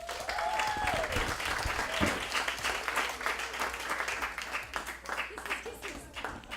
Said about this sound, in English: Please give a warm welcome to Erika Welch.